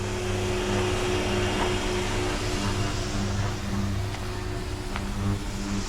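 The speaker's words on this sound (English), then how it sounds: "We're using the Festool sanders and vacuum." A steady mechanical whine and hum of a Festool power sander running with a Festool dust vacuum, continuous and fairly close, with no one speaking.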